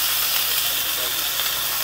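Sausage and pancakes cooking in a pan, a steady broadband sizzling hiss held close and loud with no break.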